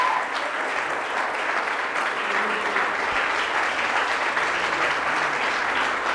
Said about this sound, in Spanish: Ahorita sí aplauda al Rey de Reyes y Señor de Señores.